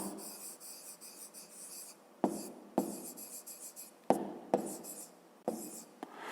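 Someone writing an answer by hand, pen or chalk scratching in short rasping strokes with several sharp taps between them, close and quiet.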